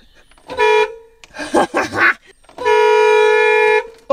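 The horn on an old boat powered by a 440 big-block Mopar engine sounds two loud, steady blasts, a short toot and then a longer one of about a second, separated by brief voice-like yelps.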